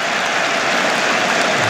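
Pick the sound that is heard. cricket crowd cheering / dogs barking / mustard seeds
cricket crowd cheering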